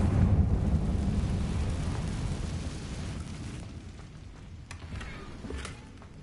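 Confringo explosive spell in Hogwarts Legacy: a heavy rumbling blast that fades gradually over several seconds, followed by a few faint crackles and debris-like ticks.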